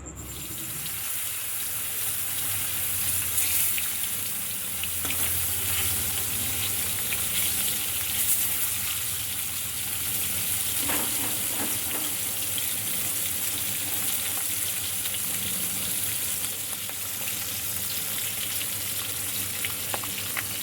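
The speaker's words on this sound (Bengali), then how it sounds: "একটু ঢাকা দিয়ে ভাজছি বন্ধুরা" Shimul fish fries in oil in a covered pan, giving a dense, continuous sizzling hiss with soft scraping and bubbling underneath, steady and close from start to finish.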